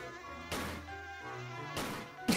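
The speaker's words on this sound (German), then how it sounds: "Die Mücke!" A thin, high mosquito-like buzz hums steadily at low volume through a short stretch, broken by a couple of sharp noise bursts, in the game Tomb Raider Remastered.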